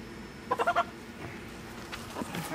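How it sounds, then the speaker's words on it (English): A chicken gives a quick burst of four clucks, fairly faint against a quiet outdoor background, followed by softer scattered sounds. "You're pretty good at catching chickens."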